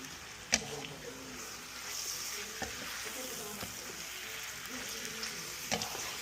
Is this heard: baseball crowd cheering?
no